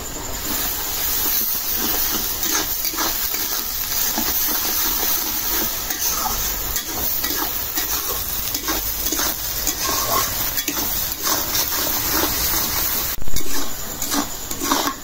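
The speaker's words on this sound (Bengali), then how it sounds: "রসুন পেঁয়াজ একসাথে ভাজা নিছি" Crushed garlic and onion fry together in a pan with a steady, dense sizzle and the occasional scrape of stirring. The sound runs on continuously with no talk.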